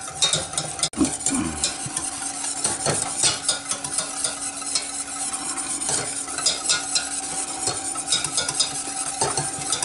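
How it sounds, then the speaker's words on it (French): Continuous scraping and clinking of a utensil stirring a coconut rock mixture in a saucepan, with soft sizzling underneath and a sharp knock near the start. "Et je continue à mélanger, j'arrête pas."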